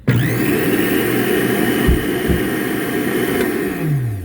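A loud Hamilton Beach smoothie blender runs continuously, whirring and straining as it grinds ice, with a motor pitch that drops toward the end.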